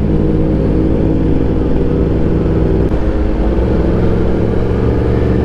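A Yamaha YZF R1 fitted with an Akrapovic exhaust drones loudly and close up on a ride through the Adelaide Hills, its deep engine note steady throughout with a slight shift in pitch midway.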